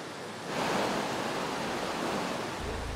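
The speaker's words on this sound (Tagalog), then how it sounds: "ito yung arumaragasang ilog na Marikina" The flooded Marikina River rushes under a bridge at high water, a dense, steady roar that swells after the first half second and stays loud and continuous throughout.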